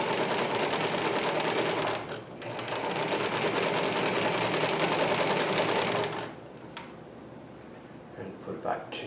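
A vintage Singer 319K sewing machine runs a multi-point zigzag stitch in two long, loud, rapid mechanical bursts, close up, with speech around it and quieter clicks after it stops.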